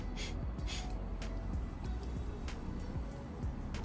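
Alternate nostril breathing with one side of the nose blocked: a series of close, airy sniffing breaths through a single nostril, repeated in short bursts with a soft snorting edge.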